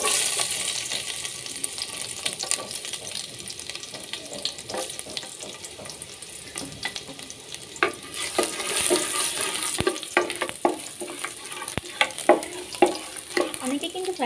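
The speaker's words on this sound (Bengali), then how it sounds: "একটু গরম হয়ে আসলে আমি দিয়ে দিচ্ছি রসুন কুচি।" Chopped garlic fries in hot oil for fried rice, a crackling sizzle dotted with sharp pops and utensil clinks against the pan, fairly close and continuous with no talk.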